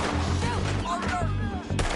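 Gunfire in a Red Dead Redemption 2 style shootout, a few sharp shots breaking over a busy game soundscape with engine-like low drones, brief gaps between bursts.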